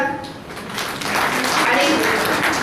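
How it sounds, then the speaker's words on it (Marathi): An audience at a seminar hall applauding, dense clapping that swells and holds steady, with voices mixed in under it. "तर याच्यासाठी सुरुवातीला टाळ्या वाजवूया"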